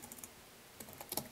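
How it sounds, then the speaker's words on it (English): Light clicks of typing on a computer keyboard, a quick burst of keystrokes at the start and another cluster near the end, close and quiet with a short pause between. "let's type this out here"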